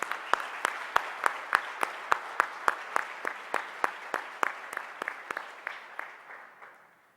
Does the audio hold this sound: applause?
yes